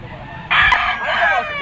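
A rooster at a Bocaue, Bulacan pet market crows once, loud and close, a single drawn-out call rising sharply and trailing off over a low background murmur.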